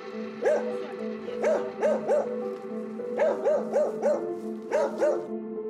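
A dog barks at strangers in a Galician village, giving close, sharp barks in short bursts of two to four, with brief gaps between groups.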